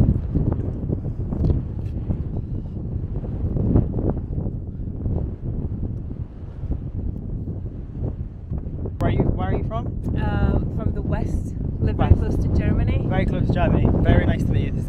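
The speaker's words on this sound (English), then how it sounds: "How windy." Wind buffets the microphone in a steady low rumble, with people talking nearby over it, in the marshes of Chibayish, Iraq.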